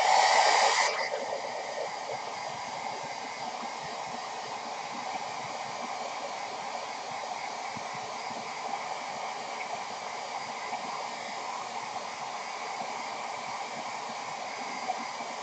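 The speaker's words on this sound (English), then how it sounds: "blast with the hairdryer." Hair dryer blowing steadily on a painting, a continuous broadband whoosh that holds even and moderately loud throughout after a slightly stronger start, with no talk.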